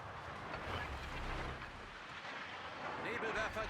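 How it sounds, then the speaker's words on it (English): Secondary guns of a German battleship firing in the World of Warships game, heavy rumbling booms and blasts rolling over one another in a dense continuous barrage, with faint whistling tones near the end. "You can see his secondaries are starting to light me up"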